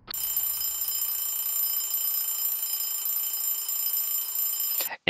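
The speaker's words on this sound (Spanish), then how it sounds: "por suerte sonó el despertador" An alarm clock rings steadily for about five seconds with a loud, bright electronic tone, then cuts off abruptly.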